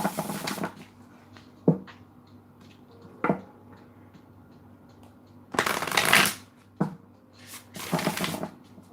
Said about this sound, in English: let me pull some last oracle cards